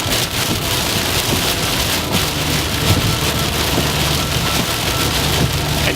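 Heavy rain pounds steadily on a car during a night drive, a dense constant wash of drops on the roof and glass with a low rumble underneath.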